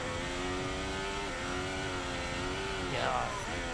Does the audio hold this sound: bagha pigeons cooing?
no